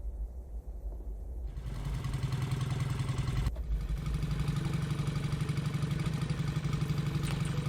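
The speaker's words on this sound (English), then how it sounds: "These things are hearing the motorcycle from way far away and reacting to it." A motorcycle engine in the video game Cataclysm DDA hums steadily, swelling to a fuller, louder drone after a moment and then holding a continuous running rumble, with no talking.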